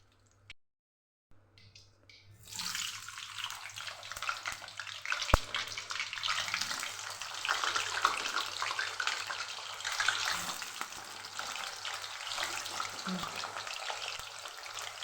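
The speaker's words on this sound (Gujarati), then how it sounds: "જેમ આપણે રીંગણા તળી લીધા એમ જ આપણે બટેકાને પણ તળી લેશું" Potatoes fry in hot oil, a soft, even sizzle that starts after a couple of seconds of near silence and continues steadily at a low level.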